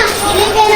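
Children play and chatter loudly outdoors in Loon, Bohol, their high voices overlapping in a brief, close burst of lively noise.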